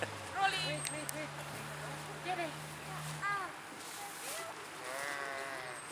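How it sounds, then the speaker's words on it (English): Sheep bleat several times at a farm with pony rides and other animals, short wavering calls scattered over a few seconds, some nearer and some farther off, while people talk nearby. "Oh, look at the sheep."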